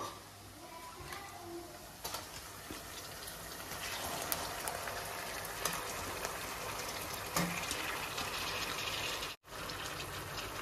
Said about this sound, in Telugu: ఇప్పుడు మనం చికెన్ వేసుకుందాం